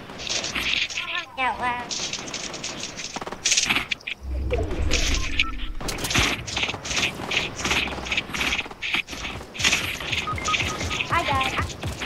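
Rapid bursts of gunfire from a squad match in a video game, rattling in repeated volleys throughout, loud and close, with players talking and exclaiming over the shots.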